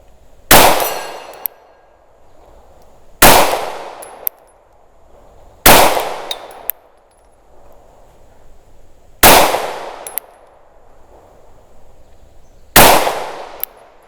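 A CZ P-10 pistol fires five loud shots at a steady pace of roughly one every three seconds. Each shot is followed by a faint ring from a steel target 50 yards away.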